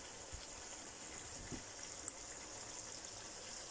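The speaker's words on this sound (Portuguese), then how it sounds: "Para estar assim a ferver" Water boils in a pot on a kitchen stove, a faint, steady bubbling hiss with a few soft pops, quiet and continuous throughout.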